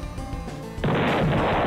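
A single explosion in the video game Deltarune bursts in partway through and becomes a loud, sustained, rumbling blast over the game's music, with no talking.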